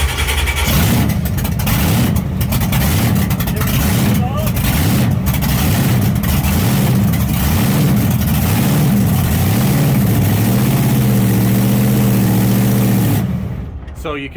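A Zeus monster truck engine cranks and catches, then runs loud and close with a rough, wavering idle that rises and falls before cutting off near the end; voices talk over it.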